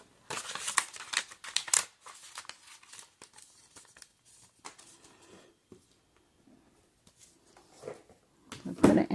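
Paper cash being slipped into an envelope gives close, dry bursts of rustling and crinkling, busier at the start and end, with quieter handling and soft speech in between.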